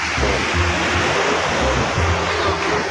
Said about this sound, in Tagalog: Yung dagat oh.